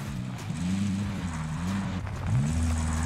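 A vehicle engine hums and revs in Call of Duty Warzone, its pitch rising and falling as it accelerates and shifts, loud and continuous under faint ambient game noise.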